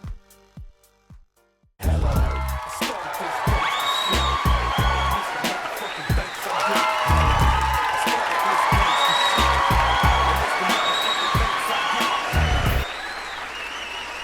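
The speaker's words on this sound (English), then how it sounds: "Thank you for that artificial applause" Artificial applause sound effect, a sudden burst of dense clapping and cheering that swells and holds for about eleven seconds before cutting off into quiet room tone.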